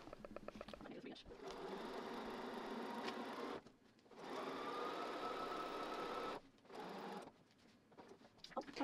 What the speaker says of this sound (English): Then I'm going to take this to the sewing machine and sew a 1/4 inch seam right down here.